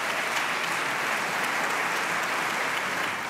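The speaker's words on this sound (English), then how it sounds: "So let's give them all a nice round of applause." An audience at a real estate event in Orange County, Florida claps in a dense, steady round of applause, loud and continuous throughout with no voices over it.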